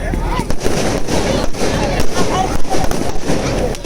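Firecrackers burst in rapid, irregular volleys at a St. Anthony's church festival chariot procession, loud and close, with crowd voices mixed in underneath.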